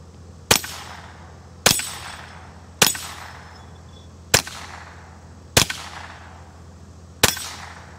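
Six sharp gunshots ring out at an outdoor shooting range, evenly spaced about a second apart, each a loud crack with a brief decaying tail and no talking in between.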